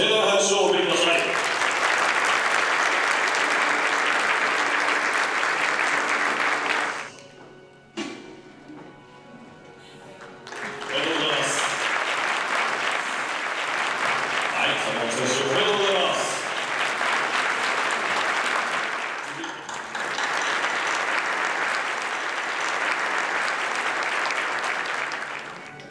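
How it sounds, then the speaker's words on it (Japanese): Sustained audience applause at a skating awards ceremony honoring figure skaters, loud and steady for about seven seconds, dipping briefly before swelling again into long continuous clapping. "皆様今一度盛大な拍手をお送りください。"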